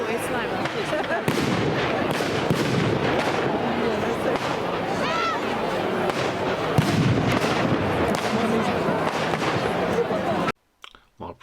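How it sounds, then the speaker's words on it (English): Fireworks at Rye Bonfire Night burst in a dense barrage of loud cracks and booms with crackling tails, crowd voices underneath, before cutting off abruptly near the end. "I promise you some fireworks,"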